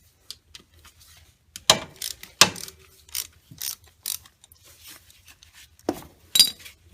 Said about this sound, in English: we're going to use an 8mm socket and go ahead and pull the cover off of this oil filter housing.